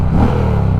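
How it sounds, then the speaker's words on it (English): A 2022 Indian Challenger Dark Horse, a water-cooled motorcycle on its stock exhaust, gives a brief loud, deep rumble close by that swells and settles within a second, with no talk. "What you're listening to right now is going to be the stock exhaust"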